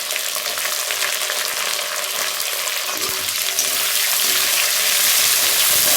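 Shallots frying with curry leaves in hot oil for a country chicken chilli fry, a loud, dense, continuous sizzle that swells slightly toward the end, heard alone without speech.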